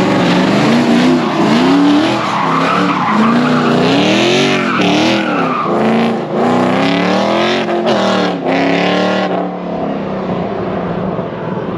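A 1969 Ford F100 Ranger muscle truck does burnouts and donuts, tires squealing and engine roaring in rising and falling waves, loud and close, before fading off at the end.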